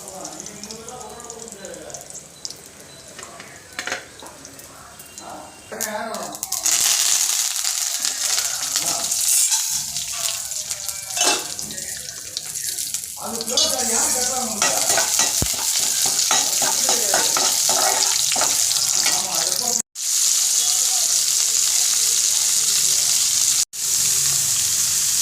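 Chana dal and peanuts sizzle in hot oil as a tempering in a pan, a steady crackling fry with stirring that grows louder partway through. Water-like splashes come in near the end.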